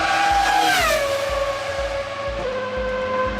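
A Formula One race car with a V10 engine screams past at very high revs, its pitch falling as it moves away, the shrill wail loud and close with a rapid pulsing underneath.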